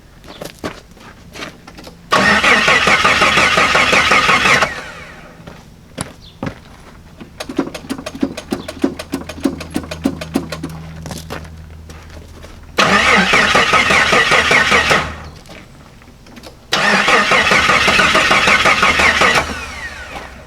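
A rusty Jeep YJ engine cranks repeatedly in long bursts of rhythmic churning, with a brief sputtering catch in the middle that fails to keep running, then more cranking.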